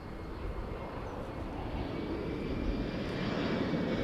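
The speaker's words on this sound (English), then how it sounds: "Embraer 175 arriving from Dublin" An Embraer 175 jet arriving from Dublin at Schiphol Airport makes a moderate, continuous engine rumble and whine that builds gradually, heard alone without talk.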